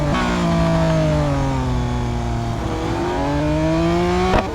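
A Lamborghini Aventador in the racing game Real Racing 3 revs hard and steadily, its loud engine note dipping midway before climbing again, close and continuous with no talk.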